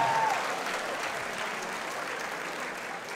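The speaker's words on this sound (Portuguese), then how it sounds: "Uma salva de palmas para o Paulo Ferreira." Crowd at an anime convention cosplay awards claps steadily for a prize winner, a fairly distant, continuous applause that fades slightly across its short span.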